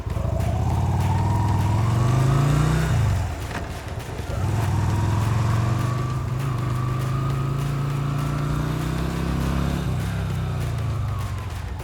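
Yamaha motorcycles on a beginner riding course fire up and run with a loud, steady engine drone. The pitch rises with revving, dips briefly near the three-second mark, then holds a sustained rumble to the end.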